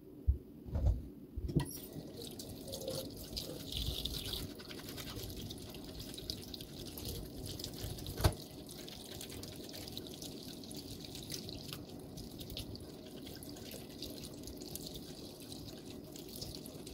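Lobster mushrooms rinsed under a running tap, a quiet continuous trickle of water with small splashes and drips, a couple of louder knocks near the start.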